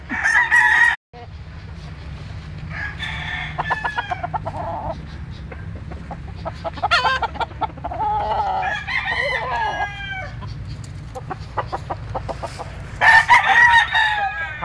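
Hatch Gray gamecock rooster crowing in long, loud drawn-out calls repeated several times, with clucking from other fowl and a steady low hum underneath.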